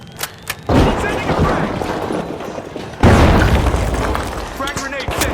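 Frag grenades in The Finals go off as two heavy, booming blasts a few seconds apart, each followed by rumbling debris and crackle, with a few faint thumps before the first.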